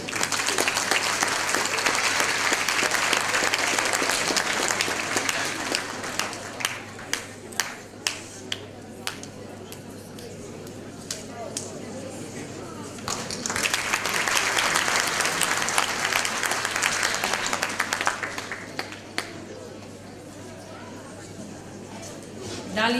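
Audience applause at a school's 70th anniversary event in Skopje, two long swells of hall clapping with a quieter stretch of scattered claps and murmuring crowd between them.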